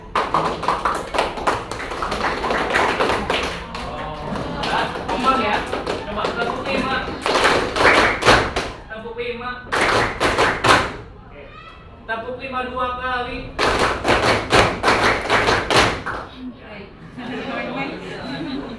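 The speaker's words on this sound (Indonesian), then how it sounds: "Tepuk 5 3 kali" High school students in a classroom clap out a five-beat pattern three times in a row, sharp loud bursts of group clapping separated by short gaps, with a teacher talking in between and students chattering.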